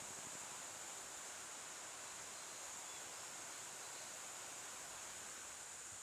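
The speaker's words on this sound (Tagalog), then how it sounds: "Eto dito medyo malakas na tubig." Strong river current rushing near Kinapuin Falls, a steady, dense broadband roar of flowing water that holds even throughout with no voices over it.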